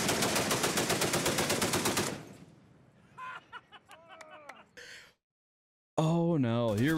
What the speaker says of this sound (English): Where's that gunfire come from?